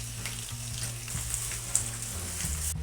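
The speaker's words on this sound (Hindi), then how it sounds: "अब मैं इसके अंदर जो मैंने अपनी कासी फल के पीसेस किए थे, ये मैं वो डाल रही हूँ" Pumpkin pieces sizzle steadily as they fry in a pan with ginger and garlic, a continuous close hiss with a few light stirring clinks and no talking.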